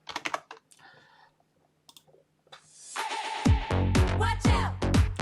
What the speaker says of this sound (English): if you just type in the search bar here